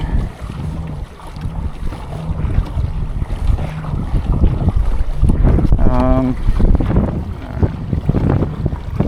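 Wind gusts across saltwater around a kayak near Castaway Island, Jacksonville, Florida, a steady broadband rush buffeting the microphone with water movement beneath, and a brief tonal sound partway through.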